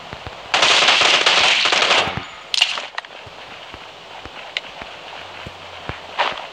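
Automatic gunfire in the video game ROS, a loud sustained burst of rapid shots for about a second and a half, followed by a few scattered single cracks and footsteps.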